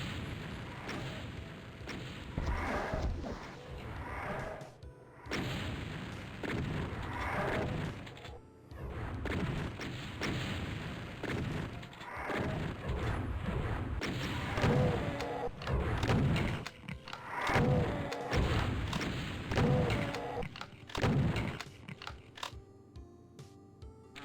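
Rocket explosions and weapon fire in the Doom mod Eviternity II, Map 21, come as repeated muffled thumps and booms amid ongoing game noise, fairly faint and steady before fading near the end.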